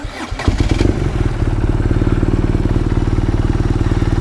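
A 2020 BMW R nineT Scrambler motorcycle engine cranks briefly with a few clattering turns, then catches and settles into a steady, loud, evenly pulsing idle heard up close.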